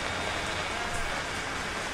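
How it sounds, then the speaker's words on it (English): Steady, dense video game rainfall patters continuously, an even broadband hiss without pauses, fairly loud and close, with no voices. "Oh, it's raining."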